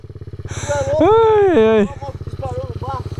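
A motorcycle ridden on a rough, muddy dirt track, its engine thudding in a fast, regular pulse close by while a man cries out over it.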